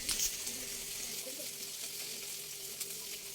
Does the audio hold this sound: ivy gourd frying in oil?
yes